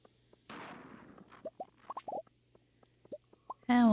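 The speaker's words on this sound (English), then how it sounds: "This looks like a nice place for a bomb." A bomb goes off in the Skull Caverns of the video game Stardew Valley, a single soft, muffled burst that decays over most of a second, followed by scattered short plinking game blips and a brighter tone at the end.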